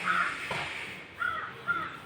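A few crow caws, somewhat distant and spaced apart, over a quiet background.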